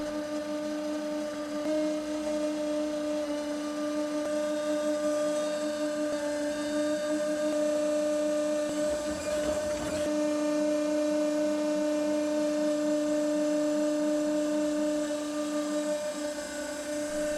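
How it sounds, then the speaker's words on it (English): An 8-inch auger on a tractor loader boom drills a fence post hole, giving a steady, loud mechanical drone with a strong hum that holds unchanged from start to finish, with no voices. "letting the auger do the work."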